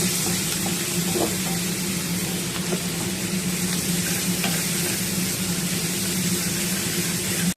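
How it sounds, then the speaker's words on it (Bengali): Onions frying in a pan with little oil, giving a loud, continuous sizzle with scraping stir strokes running the whole way through. "পেঁয়াজগুলোকে একটু লাল লাল করে ভেজে নেব।"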